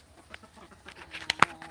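Farm chickens give a few short, faint clucks over quiet background, with two sharper calls near the end.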